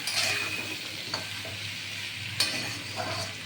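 Mixed vegetables and ginger are stirred in a hot pan, a gentle sizzle with a few scraping strokes and light clinks, close by and without speech.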